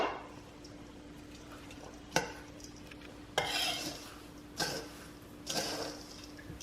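Mixing bread dressing in a big bowl with a spoon, a quiet scene broken by a handful of spaced scraping, clattering strokes.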